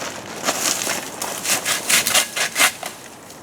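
A palm plant is trimmed outdoors, with a run of dry rustling cuts and snaps of fronds coming in uneven bursts, fairly close and moderately loud, with no talking.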